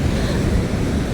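Big ocean waves crash against the rocky cliff coast near Elliston, a loud continuous roar of surf with heavy wind buffeting the microphone and no talking.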